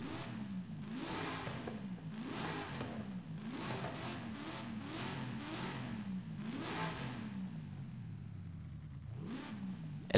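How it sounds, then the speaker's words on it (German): A Nissan Silvia's stock engine in Forza Horizon 5 revs repeatedly in rising and falling surges, a steady mid-pitched drone climbing and dropping through the gears at moderate volume. "Motorswaps, wir kommen glaube ich da nicht drum rum, weil der Serienmotor halt wie ein kaputter Civic klingt"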